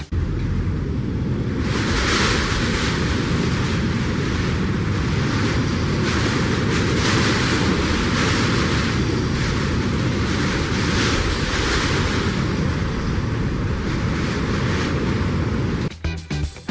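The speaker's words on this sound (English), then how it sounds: "A sudden gust of wind." A strong gust of wind picked up by a car dash camera, a loud, continuous buffeting roar that fills the whole stretch and cuts off abruptly near the end, with no voices.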